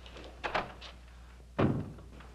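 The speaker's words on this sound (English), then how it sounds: "Close the door." A door in a military office closes with a solid thunk, preceded by a fainter knock or rattle of the latch, heard nearby in a quiet room with no talking.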